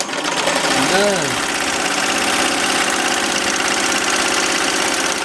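An embroidery machine runs with a steady, dense mechanical chatter that holds at an even level throughout; a brief voice-like pitched sweep rises and falls near the start, and no clear stop is evident.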